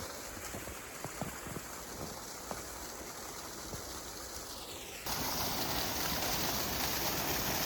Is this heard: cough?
no